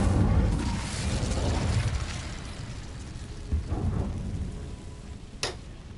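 A spell burst in the Hogwarts Legacy game, where a roaring, rumbling whoosh of fire swells at the start, dies away, then gives way to a couple of sharper bursts and a brief crackling flare near the end, with no talking.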